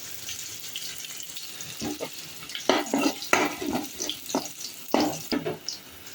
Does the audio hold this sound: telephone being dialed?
no